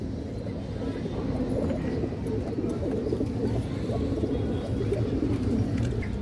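Old-blood pigeons in a loft of mixed breeds such as khaki, silver khaki and green-neck keep up a dense, continuous low cooing, many birds at once, steady throughout with a voice now and then over it.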